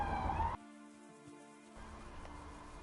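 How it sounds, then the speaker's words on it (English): Siren wailing in the background, a steady tonal whine with harmonic bands heard faintly behind other sound, starting after a brief louder burst and continuing through the short stretch. "there was a siren in the background"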